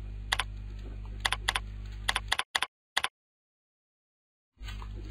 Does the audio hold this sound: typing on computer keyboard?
yes